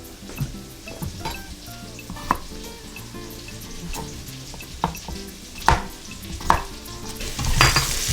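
Chunks of stew ingredients, cut to about an inch, brown and sizzle steadily in a pot, with occasional stirring clinks and scrapes over the frying hiss and no talk.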